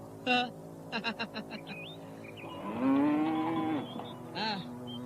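A cow moos close by: several short clipped calls lead into one long, rising and falling low moo, followed by a brief final call.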